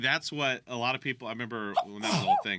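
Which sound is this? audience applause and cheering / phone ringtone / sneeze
sneeze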